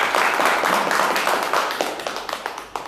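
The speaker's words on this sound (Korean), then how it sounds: "여기서 박수 한번 칩시다." A lecture audience claps together, a dense wash of applause that thins out into scattered individual claps over a few seconds.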